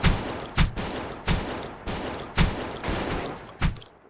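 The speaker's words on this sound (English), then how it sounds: "So let me just shoot something like an airlock." Shotgun blasts of buckshot fired at an airlock in the space station game Space Station 14, five sharp booming shots spaced roughly a second apart, loud and close, with no talking.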